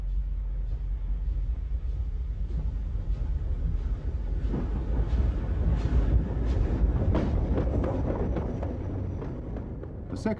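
A Riddles 2-10-0 steam locomotive on the Mid-Hants Railway rumbles past with loud, steady low-end roar and hiss. Faint chuffing builds toward the middle, close and continuous throughout.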